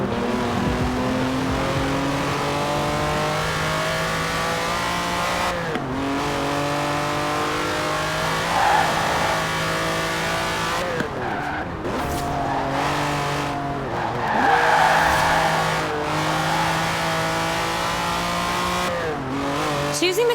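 A Lamborghini Countach in Forza Horizon 4 revs hard and accelerates through repeated gear changes, its engine note climbing in steady sweeps, with brief tire squeals as it races along at full throttle.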